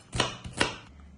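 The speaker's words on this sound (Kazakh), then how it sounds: "Пиязымызды турап алдық" Two sharp knife chops on a board while onion is cut for a quick lazy manti, close and distinct, followed by a short quiet pause and no talk.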